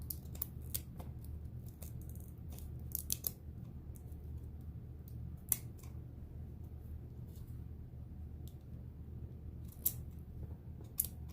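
Scissors trimming the rim edge of a canning jar lid pumpkin craft, several sharp snips scattered over a low steady background rumble, close by.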